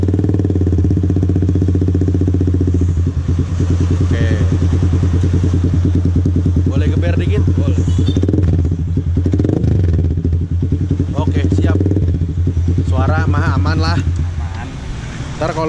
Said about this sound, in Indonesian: Kalau gue mau dengar knalpotnya gimana?